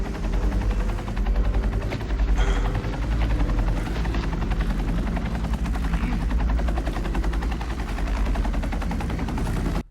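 A loud, close helicopter with rapid, steady rotor chopping throughout, constant and heavy without pause.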